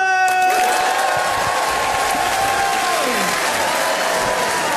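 A comedy show crowd bursts into loud, sustained applause with cheers and whoops, continuous and close, staying dense for the whole stretch.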